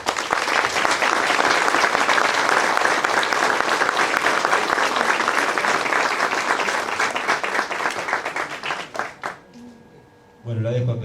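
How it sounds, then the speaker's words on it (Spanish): Sustained applause from a crowd at an intercultural health training event, honoring an indigenous community leader, loud and dense for about nine seconds before fading, with a voice speaking briefly at the end. "Así que les pido un aplauso para la cacique."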